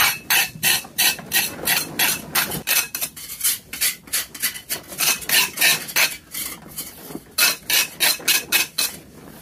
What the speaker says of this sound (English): we're currently scraping these bricks, which were laid on Monday, just with a little trowel, cleaning off all the arrases